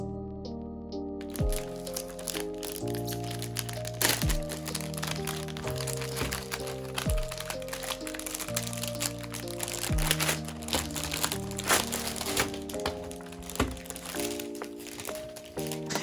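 Crinkly plastic and cardboard rustle and crackle close up as a SteelSeries Apex 5 keyboard box is opened, steady crunching rustles with no talking.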